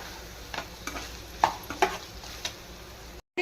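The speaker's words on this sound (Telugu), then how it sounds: "ఈ అల్లం వెల్లుల్లి పేస్ట్ కూడా బాగా పచ్చి వాసన పోయే వరకు ఫ్రై చేసుకోవాలా." A steady low sizzle of ginger garlic paste frying in a pan, broken by several scraping clicks of a spoon stirring, close up and without talk.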